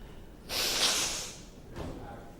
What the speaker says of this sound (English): blowing my nose right in your ear